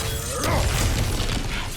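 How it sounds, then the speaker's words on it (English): Objects being smashed in God of War Ragnarok, a dense, loud burst of shattering and crashing debris with clattering fragments throughout, no talk. "back to smashing through things for fun and profit"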